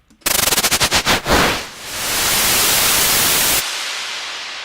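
Rapid stuttering bursts of synth white noise speed past, then swell into a long, loud wash of hiss shaped by reverb and auto-pan, ending in a sudden drop to a quieter decaying tail.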